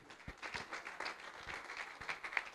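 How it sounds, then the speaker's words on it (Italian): Audience at a futsal awards event clapping for a speaker on stage, a fairly faint, steady patter of many hands with scattered louder claps, heard from a distance in a large hall. "Un applauso a Sandro Tonini."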